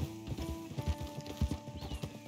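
Horse hooves clip-clopping in the video game Red Dead, a quick irregular series of close thuds over a low ambient bed.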